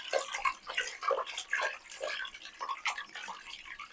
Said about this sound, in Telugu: మళ్ళా నీళ్ళు పోసుకొని కలిపి పోసుకోవాలి